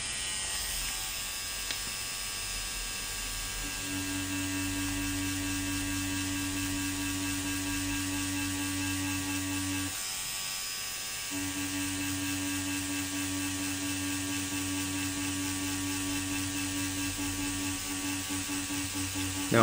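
A tattoo machine buzzes continuously while shading skin for black and grey realism work, a steady close mechanical whir with a brief pause partway through, and no voices.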